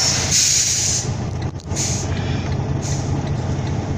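A semi truck parked to unhook its trailer sets its air brakes, giving sharp hissing bursts of released air over a loud, steady diesel idle, several short hisses in a row with no talk.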